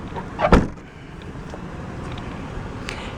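The rear liftgate of a 2018 Toyota 4Runner SR5 4x4 swinging shut, one solid thump near the start followed by quiet ambient noise, no voices.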